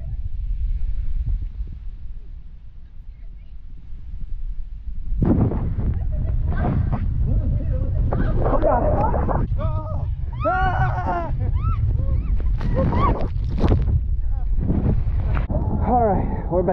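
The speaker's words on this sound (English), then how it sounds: "You probably can't hear me because it's so windy." Strong wind rumbles and buffets the microphone at CocoCay island, strengthening after a few seconds while people talk and shout over it.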